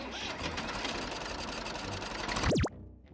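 A cartoon tractor engine running, a fast rattling chug held steady for over two seconds, then cut off by a quick whooshing sweep before near silence.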